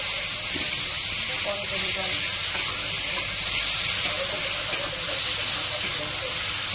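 Onions dropped into a hot pan, a loud continuous sizzle and hiss close up, with people talking over the frying.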